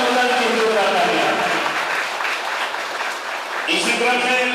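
An audience at a Dr. Bhimrao Ambedkar Jayanti ceremony claps steadily throughout, with a voice talking over the applause and a fresh burst of clapping near the end.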